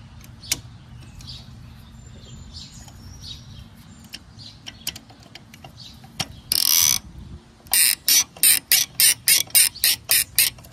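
Ratchet wrench taking the carburetor off a rusty Kawasaki FC420V engine from a Toro 1438 HXL lawn tractor, with scattered clicks and knocks, then a quick run of ratcheting and a steady series of about nine loud close ratchet bursts.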